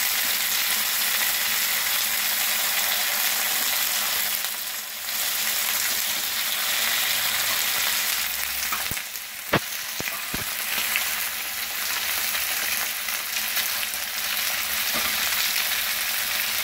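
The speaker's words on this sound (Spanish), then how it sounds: "Ahí está, este es el espinazo. Una sellada porque la vamos a poner a cocer en la olla express" Pork backbone searing in a very hot pan, a loud continuous hissing sizzle with a few sharp pops and clatters near the middle.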